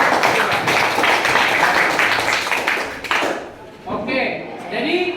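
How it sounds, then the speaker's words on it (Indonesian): Schoolchildren in a classroom clap for a student group after a presentation; a dense burst of applause fades out after about three seconds, followed by a few scattered claps and a voice. "Tepuk tangan dulu untuk kelompok."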